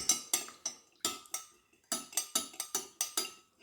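A utensil stirs coloured wax melt in a pot, producing close, quiet, rhythmic clinks and scrapes against the metal in quick uneven bursts, with no talking.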